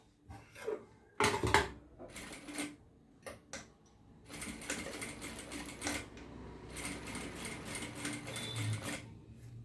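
Domestic sewing machine stitching thread piping, running in quick mechanical bursts: a few short taps and runs, then a longer continuous clattering stretch, close and fairly quiet, with no voices.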